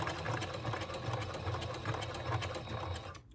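Sewing machine stitching straight across the bottom of a tote bag, a continuous close, even whirr with rapid needle rhythm that runs unbroken for the whole stretch.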